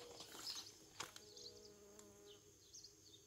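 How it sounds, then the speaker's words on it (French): Bumblebees buzzing around a vegetable garden early in the morning after repeated bad weather, faint intermittent buzzes drifting near and far over a quiet outdoor background. "Ah si, les bourdons sont à l'action."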